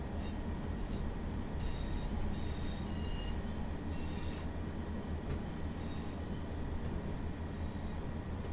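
Train on the Blackpool South to Ormskirk line rumbling steadily from on board, a continuous loud low roar with faint rail clicks and wheel squeal.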